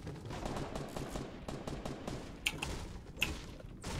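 Rapid gunfire in a video game, a dense run of shots going off steadily with a couple of sharper cracks standing out, loud and close with no talk.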